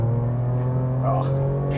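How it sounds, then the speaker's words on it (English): A V6 XLT four-wheel drive pulls hard in 4A, its bimodal exhaust giving a steady, close, droning engine note with strong low harmonics that climbs slightly in pitch as it accelerates. "You get a stack of exhaust note as well, because this now has a bimodal exhaust."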